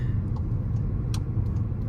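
A Volkswagen GTI with a six-speed manual gearbox cruising in normal mode, giving a steady low engine and road rumble heard from inside the cabin, with no talking.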